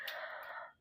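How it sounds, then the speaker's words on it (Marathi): A rooster crows once in the morning, a single short, faint, distant call that trails off. "कोंबड्यांचा"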